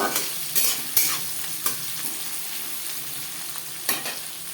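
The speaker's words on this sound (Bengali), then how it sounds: "পেঁয়াজের সাথে তেজপাতাও ভেজে নেব" Onions and a bay leaf frying in a thick aluminium kadai for restaurant-style chicken biryani, a steady close sizzle broken by several sharp stirring scrapes and clinks of the spatula, with no talking.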